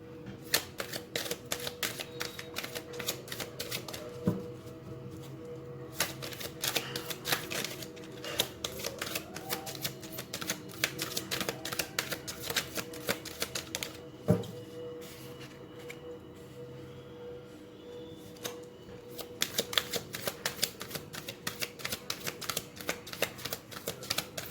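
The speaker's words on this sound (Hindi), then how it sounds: "हम एक और ओरेकल डेक से एक कार्ड और निकाल लेते हैं, 3 कार्ड और निकालेंगे" An oracle deck is shuffled and cards are drawn, giving rapid, close, soft crisp flutters and taps that run almost continuously, with a few sharper snaps.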